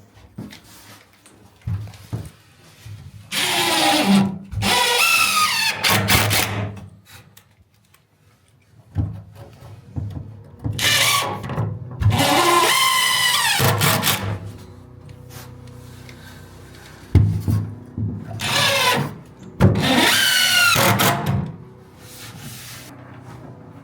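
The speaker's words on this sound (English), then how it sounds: "grab 3 long screws, and from on the bottom, screw it to the support leg" A power driver sinks three long screws from underneath into the support leg of a Northern Leisure 6' panoramic barrel sauna. Each screw gives a separate loud whirring run that rises in pitch, with short quiet pauses between them.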